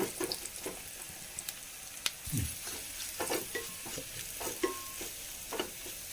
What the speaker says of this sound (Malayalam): ഇതൊന്ന് മൂത്തോട്ടെ മുളകൊന്ന് മൂത്ത് വന്നോട്ടെ